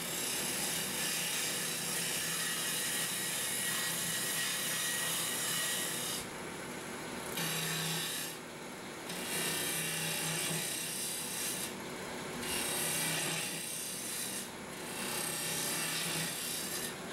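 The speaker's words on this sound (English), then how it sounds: "I continue working on the shape as I speed it up." Woodturning lathe shaping a plywood and mesquite vase while speeding up, a continuous loud scraping rasp of the tool on spinning wood with brief dips and changes in tone, no talk.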